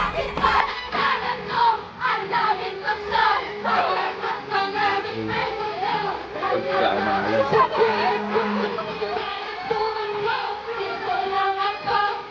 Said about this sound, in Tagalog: crowd going crazy